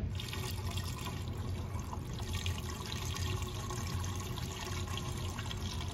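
Washer fluid pours into the windshield washer reservoir of a 2010-2019 Ford Taurus, a steady, quiet, unbroken rush of liquid with no talking over it.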